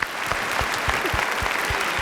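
A studio audience at a televised singing competition gives a short burst of applause after a poem is read. The clapping is close, dense and steady, with rhythmic heavier claps running through it.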